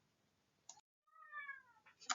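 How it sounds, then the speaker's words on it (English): A house cat gives a single drawn-out meow, close by and fairly clear, in an otherwise quiet room with brief faint noises around it. "Excuse my cat."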